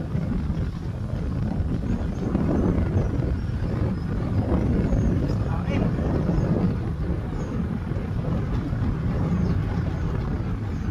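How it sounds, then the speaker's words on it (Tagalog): Steady, roaring headwind buffets the microphone on an outdoor road trail, a dense low rumble that never lets up. "Malakas ang hangin, headwind po ngayon."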